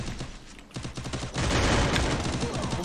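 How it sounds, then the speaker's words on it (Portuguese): Rapid bursts of gunfire in a shooting video game, quick stuttering shots early giving way to a denser, louder volley of automatic fire in the second half, with no talk over it. "Vou dar um tiro aí."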